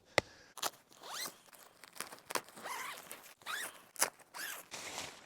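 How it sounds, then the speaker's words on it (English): A double zipper on the door of a Unigear Space Dome 2 budget two-person tent is pulled in several quick runs, each a close, scratchy rasp that comes in uneven bursts with short pauses between them. "See how it's got double zippers on this door?"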